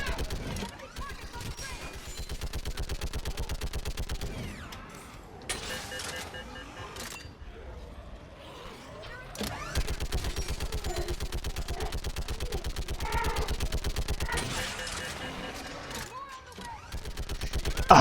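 A mounted gun in Mass Effect 3 hammers out long rapid-fire bursts with brief pauses between them, loud and close, as voices shout over the din.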